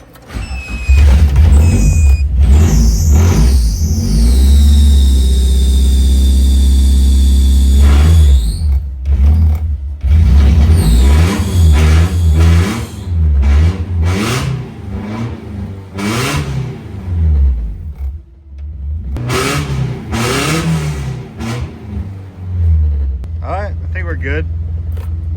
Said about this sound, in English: not the best to rev the car that cold like that